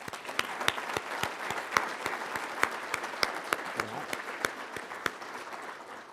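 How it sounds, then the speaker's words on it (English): Applause for graduates at an awards ceremony breakfast, a soft crowd clapping throughout with a few louder individual claps standing out sharply above the steady patter. "Let's give them a round of applause."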